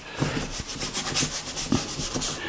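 Oil paint brush dragging and scrubbing across canvas while a sky is painted, close and soft, with repeated short rubbing strokes in an uneven rhythm and no talk.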